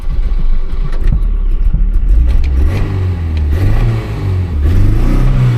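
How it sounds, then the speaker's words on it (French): Volvo 240 engine with Bosch K-Jetronic fuel injection revving up under acceleration, a loud close low drone that rises and swells in pitch through the clip, with no voices. "il reste plus qu'à remonter sur la voiture et voir si elle accélère correctement"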